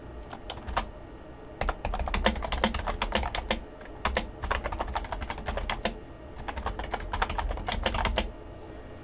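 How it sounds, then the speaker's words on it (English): Fingers typing a message on a computer keyboard, rapid clicking keystrokes in bursts with short pauses between them, close and clear with no talking. "So I'll just type that out real quick."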